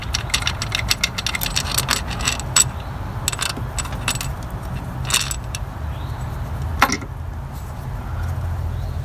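Tools clink and tap against metal while the throttle body comes off a 2002-06 V6 Toyota Camry engine: scattered close, sharp metallic clicks and light rattles over a low steady hum, with no talking.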